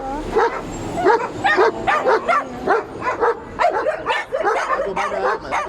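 A large dog barks repeatedly at close range, a run of quick woofs mixed with higher yips and whiny notes.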